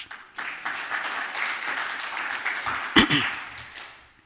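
Steady applause from a conference audience, a dense wash of clapping lasting several seconds with a sharper burst near the end before it fades out.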